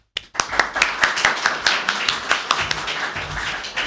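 Audience applause welcoming lecturer Dr. Eric Waggoner at a literature talk, starting abruptly and continuing as a run of sharp, distinct claps from a smallish crowd that gradually thins.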